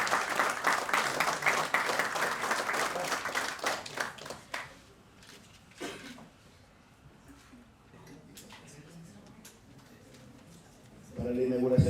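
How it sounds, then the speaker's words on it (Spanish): An audience at an astronomy forum and certification ceremony bursts into loud applause that fades out after about four seconds, followed by a quiet room with scattered sounds before a voice begins speaking. "Déjenles un fuerte aplauso, por favor."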